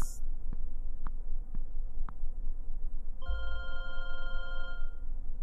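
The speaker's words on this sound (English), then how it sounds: "Gotta wait 3 rings before you pick it up." A telephone rings in a quiet room, one electronic warbling ring burst following a few faint soft knocks, moderately near and alone.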